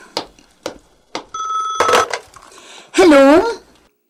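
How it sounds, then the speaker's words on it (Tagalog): A telephone rings indoors with a short bright metallic bell burst after a few knocks and clinks, followed by a loud voice speaking close by. "Telepono."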